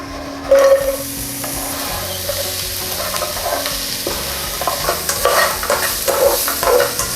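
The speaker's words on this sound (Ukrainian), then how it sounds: "Цибуля вже почала смажитись." A steady sizzle of onion frying in sunflower oil fills the clip, with occasional stirring scrapes and crackles close up.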